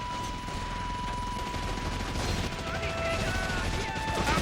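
Gunfire and explosions in a loud battle in a PS2 video game, a dense continuous din with a steady tone running through it and voices mixed in.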